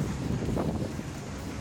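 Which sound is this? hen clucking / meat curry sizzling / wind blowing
wind blowing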